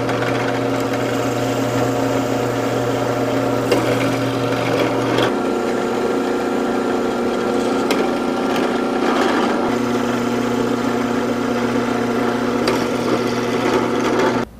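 A drill whirs steadily and close while boring and countersinking holes in a 3D-printed Nerf shotgun part, a continuous motor whine with brief dips in load before it stops abruptly.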